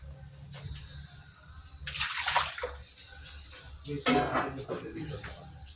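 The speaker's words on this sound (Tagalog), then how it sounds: "Ngayon ay lalagyan po natin ng konting water para maluto yung ating bangus." Water poured into a pot of milkfish with vegetables in two splashy bursts, close and fairly loud, with faint clinks of the pot between pours.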